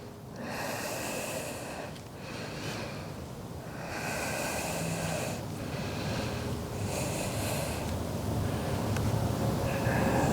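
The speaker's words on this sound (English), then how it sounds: "Continue breathe." Heavy rhythmic breathing during a yoga flow, long close audible inhales and exhales in slow waves over a constant breathy hiss, with no talking.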